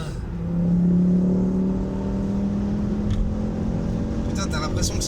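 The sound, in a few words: Tesla Model 3 electric car accelerating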